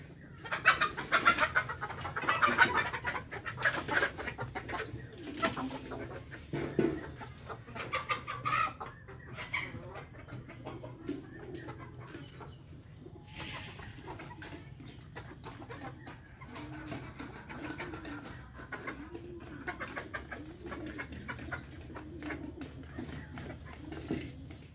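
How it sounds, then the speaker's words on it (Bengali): Native chickens and a rooster clucking nearby, with a louder burst of clucks early on and then softer intermittent calls. "এই মোরগটা খুব অত্যাচার করতেছে, দেশি মোরগ।"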